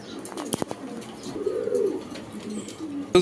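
A Belgian bloodline pigeon gives a low, throaty coo close by, with a few sharp taps and rustles around it.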